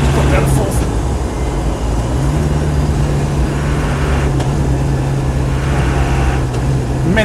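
A Land Rover 90 hardtop with a 200tdi diesel and LT77 gearbox drives along in fourth gear, giving a steady, loud engine drone and road rumble that holds constant throughout, with no talk over it.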